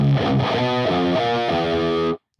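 A distorted electric guitar plays a riff, heard as a series of chugging, heavily overdriven chords that stop abruptly.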